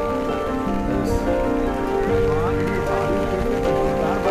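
Steady rain patters on a hard surface, constant and fairly loud, with voices talking over it.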